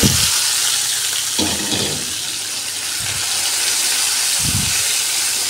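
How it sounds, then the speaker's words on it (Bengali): Onions frying in a pan for an ilish fish dish, a loud continuous hiss and sizzle that swells in bursts with occasional stirring. "এই পেঁয়াজটাকে একদম ভাজা ভাজা করবো।"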